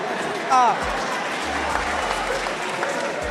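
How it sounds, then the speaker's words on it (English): An audience breaks into steady applause, a dense continuous wash of clapping with a brief whistle or shout near the start and low rumbling underneath. "A round of applause for him, please."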